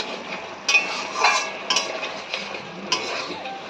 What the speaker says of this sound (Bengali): এবার ভেজে রাখা আলু আর বেগুনগুলো মশলার মধ্যে দিয়ে দেবো একবার ভালো করে সব কিছু একসঙ্গে কষে নিতে হবে